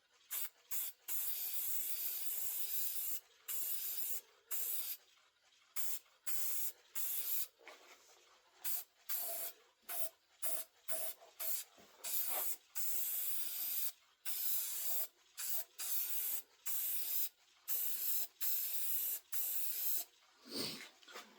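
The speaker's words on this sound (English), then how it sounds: "So we're just gonna spray this on," A spray can sends finish onto a birch wood vase spinning on a lathe, in a long series of hissing bursts separated by brief gaps, close and loud.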